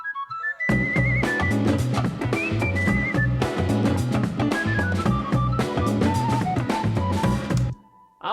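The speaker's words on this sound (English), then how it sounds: "this Celtic tin whistle MIDI patch" A Celtic tin whistle MIDI patch plays a bright, piping melody over a steady backing groove, the line running continuously for several seconds before stopping abruptly near the end.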